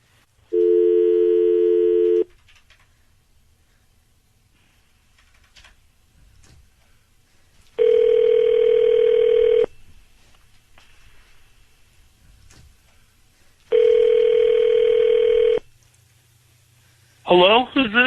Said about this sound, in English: We're about to dial your husband